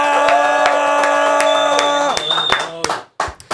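A talent-show audience breaks into loud applause and cheering after the host introduces a young urban-music performer, the crowd noise rising over a sustained musical stinger and then cutting out abruptly near the end.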